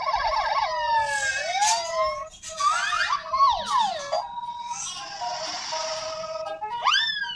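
Electronic siren tones from a toy ambulance warble and swoop through varied patterns, loud and close, with no voices.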